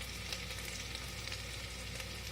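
Okra curry with turmeric frying lightly in a pan, giving a steady, even sizzle that stays constant and close throughout, with no voices.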